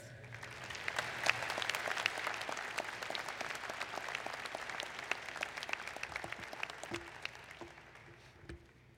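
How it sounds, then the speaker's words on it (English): Graduates and guests clap for a speaker at an engineering graduate commencement ceremony, a long, sustained round of applause from a large hall, fairly soft and even, tapering slightly near the end. "Let's give Dr. Yoon another round of applause for wonderful remarks"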